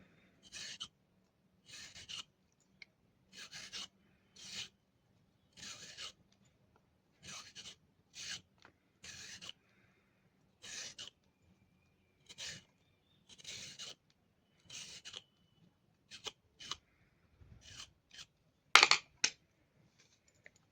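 A cucumber is peeled for chutney with a series of short, dry scraping strokes repeated at a steady rhythm, close and fairly quiet, with a sharper knock near the end.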